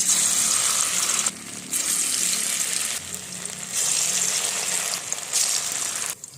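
Small pieces of jackfruit fry in hot oil in a wok, a loud crackling sizzle that briefly dips several times as the pieces are moved, then resumes.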